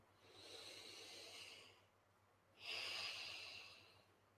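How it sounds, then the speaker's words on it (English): Slow, soft breathing during a chest-tapping relaxation exercise: a long airy exhale, a brief pause, then a louder breath, quiet and close with no talk. "Keep tapping and breathing."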